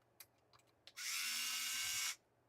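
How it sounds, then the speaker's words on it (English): A handheld powered screwdriver whirs steadily for about a second, alone and close, after a few light clicks and taps of handling. "I have this powered screwdriver."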